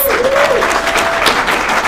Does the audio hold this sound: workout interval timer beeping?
no